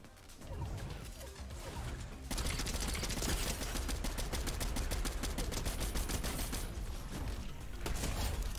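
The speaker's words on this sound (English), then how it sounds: "We're gonna go on the high ground and absolutely beam him with our rifle." Rapid rifle gunfire in the Fortnite video game, an MK-7 rifle fired from high ground, comes in a dense continuous burst after a short lead-in, loud and sustained with brief pauses.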